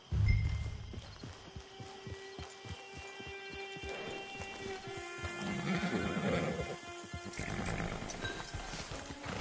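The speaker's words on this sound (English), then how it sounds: "Get your horse." A horse in the Old West video game moves with a quick run of clip-clopping hoofbeats early on. A loud snort or whinny follows, and soft ambient rumble lingers in the background.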